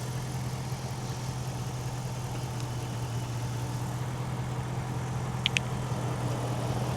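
A 2006 car engine idles steadily with no ticking, a smooth continuous low hum that stays even throughout, with a couple of faint brief clicks near the end.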